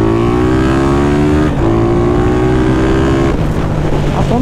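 A remapped 470cc motorcycle engine revs hard with a loud, sustained harmonic drone that climbs steadily, dips briefly, then rises again, recorded close with wind buffeting the microphone.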